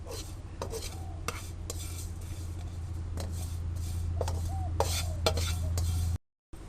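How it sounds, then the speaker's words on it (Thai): White sesame seeds being dry-roasted over low heat in a pan, with a steady scraping stir and occasional light clinks of utensil against metal, alone and fairly close, no talk. "คั่วด้วยไฟเบาๆ ไม่งั้นเดี๋ยวงาเราจะไหม้ซะก่อนนะคะ"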